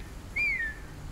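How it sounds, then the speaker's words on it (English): A single whistled signal in Telltale's Game of Thrones game, near woods: a clear tone rises briefly, then glides slowly downward for under half a second over a quiet background, with no talking. "Someone's whistling. It's like a signal."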